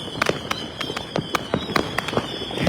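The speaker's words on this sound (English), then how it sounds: "You see, Captain America, it's a very long-lasting Saturn missile." Long-lasting Saturn missile fireworks at a New Year celebration pop in a rapid irregular string of sharp cracks, moderately loud and at some distance.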